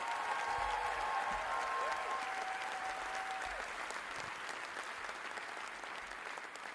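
A hall audience applauds the Hamazgayin Sayat Nova choir with sustained, even clapping from many hands. It stays full and constant throughout, and a faint tone rings briefly underneath.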